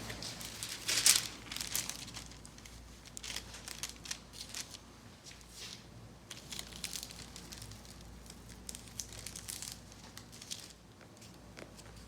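Wax paper being handled during a Porsche rear seat back restoration, crinkling in an irregular series of close, light rustles, with one sharper crackle near the start.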